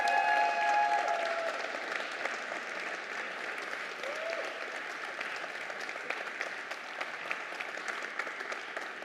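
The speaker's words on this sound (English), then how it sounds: "I think Norbert deserves a very big applause." Sustained audience applause at a laser industry keynote event, even and moderately loud throughout, with a brief whistle-like tone near the start and a few faint voices underneath.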